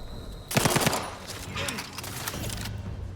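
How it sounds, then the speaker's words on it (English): A sniper rifle shot cracks out in The Outer Worlds 2, a loud sharp blast with a burst of rapid crackling reports, followed by lingering game sounds and muffled voices in the background. "Oh my god, he sniped at me."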